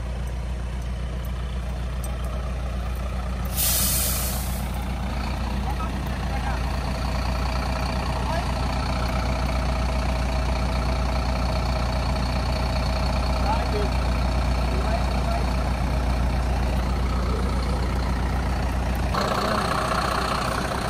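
Correios mail truck stuck in mud, its engine idling with a steady low drone that rises briefly near the end as it strains, while people talk nearby.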